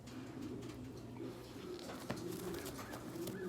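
Recessive opal pigeons cooing in a loft, soft low repeated coos layered over one another, close by and steady with faint background rustle.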